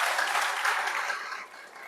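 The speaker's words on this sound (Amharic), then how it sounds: "እስቲ ሞቅ ያለ ጭብጨባ ለእግዚአብሔር።" A church general assembly in Jimma applauds God, a dense burst of crowd clapping that stays full for about a second and then thins and fades.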